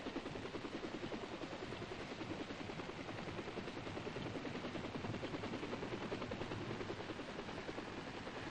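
Army helicopter escort taking off in Vietnam, a loud, steady rotor and engine roar that fills the whole stretch without a break, dense and close.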